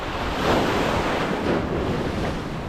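Ocean surf rolls over a sandbar onto the beach, a loud, continuous wash of breaking waves with gusty wind buffeting the microphone, and no voices.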